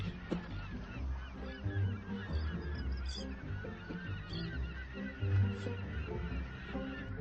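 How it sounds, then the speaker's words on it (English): A large flock of pelicans gathers at a vast saltwater lake in the Australian outback, with dense overlapping honking and grunting calls continuing steadily and close by throughout. "thousands of pelicans seem to miraculously appear at a vast saltwater lake"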